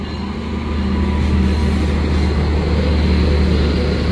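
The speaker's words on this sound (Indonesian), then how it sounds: "Ini yang baru saja masuk adalah kereta api Argo Bromo Anggrek, tujuan akhir ke Surabaya Pasar Turi" Argo Bromo Anggrek passenger train pulling into a station in Indonesia, a steady loud low rumble and rolling roar that swells slightly and holds throughout.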